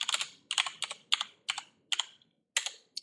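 Keys clicking on a computer keyboard as terminal commands are entered, short clusters of crisp close taps separated by brief pauses, quiet and with no voices.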